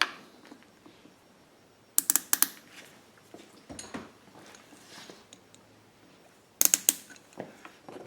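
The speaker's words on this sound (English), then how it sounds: "And we're going to use one of the white hose clamps." A white hose clamp is cinched down on a fuel kit adapter for a GenMax GM9000iED generator, producing quiet close-up ratcheting clicks and two sharp bursts of clatter among faint handling noises.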